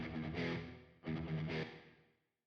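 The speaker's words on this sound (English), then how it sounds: "You can hear just a little reverb." A synth-like tone through the Audiority Solidus VS8100 plugin with volume set to zero, leaving only a faint reverb tail: two swelling, fading notes, quiet and smooth, dying into near silence before a brief click at the end.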